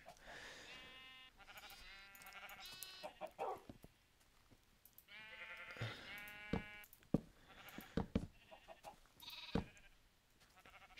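Several Minecraft sheep bleat repeatedly in short, wavering cries, some overlapping, with a few sharp clicks in between; fairly close and clear.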